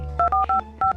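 A phone being dialed to call a friend, four short dual-tone keypad beeps in an uneven quick rhythm, loud and close, with no talking.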